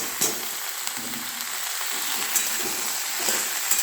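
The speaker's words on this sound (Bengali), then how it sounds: "শিমগুলো দিয়ে ফ্রাই করছি।" Cut green beans fry in a pan, a continuous bright crackling sizzle with scattered pops and light stirring, close and steady with no talk.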